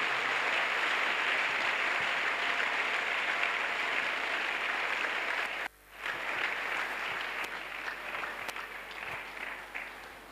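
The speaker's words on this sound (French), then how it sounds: "Let us clap for Jesus." A church congregation at an evangelistic crusade claps together in sustained, dense applause that fills the room, breaks off briefly midway, then resumes and gradually thins out.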